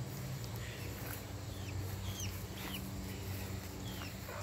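Faint backyard flock of chickens with a rooster, soft scattered clucks and short calls over a low steady background hum, fairly distant and quiet.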